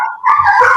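A dog lets out a single loud, close bark that rises into a short whining howl, heard alone in an indoor setting with no talking.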